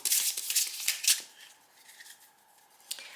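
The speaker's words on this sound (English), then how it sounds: "I'm just gonna show you after a quick shuffling" Someone riffles and shuffles a tarot card deck up close, a quick flurry of papery snaps and slides that fades into a quieter rustle and ends with one more flick.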